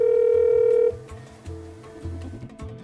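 An unanswered telephone call: a steady dial tone gives way to short, repeating ringback pulses, clear and close with no voice ever picking up.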